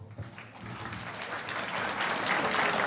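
Applause from an audience at an annual dinner, starting moderate and swelling louder and denser over a few seconds of continuous clapping.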